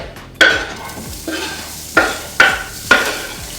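Bacon cooking in a very hot pan, a loud continuous sizzle broken by five sharp scraping stirs against the pan, with no one speaking.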